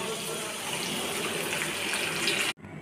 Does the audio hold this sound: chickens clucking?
no